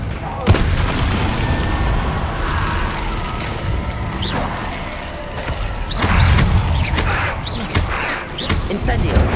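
Spell casts and magical explosions boom and burst repeatedly in Hogwarts Legacy combat, dense and loud throughout, with a voice shouting spell names over the clashes.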